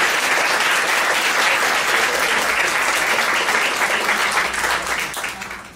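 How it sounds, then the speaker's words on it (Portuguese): Sustained audience applause at a spiritist gathering, dense steady clapping from a crowd that holds loud for about five seconds and then begins to fade at the end. "fica aqui as nossas palmas, o nosso agradecimento"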